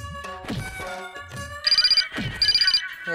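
An electronic phone ringtone trills in two short bursts, with thumps and other sounds mixed in around it.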